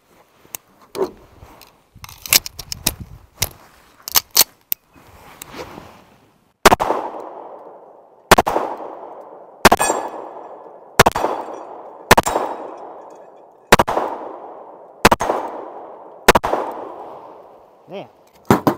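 Alchemy Prime Elite pistol firing hollow point rounds outdoors: a quick cluster of sharp cracks, then a steady string of loud, evenly spaced reports, each trailing a short ringing echo.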